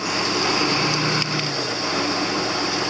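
A small hay baler engine roars steadily close by, a high-pitched whine running throughout with a brief clunk partway through.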